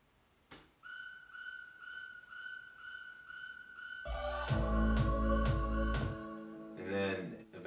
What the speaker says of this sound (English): There's this whistle that I use.